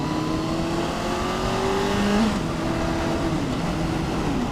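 Kawasaki Concours 14 motorcycle accelerating on the road, a steady engine drone with a rising tone and a gear change midway, continuous and close under wind noise, no talk.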